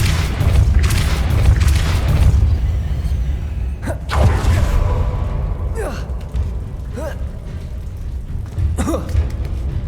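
Depulso spell cast in Hogwarts Legacy, a few sharp whooshing magic bursts over a deep rumbling game background, spaced several seconds apart and fairly loud.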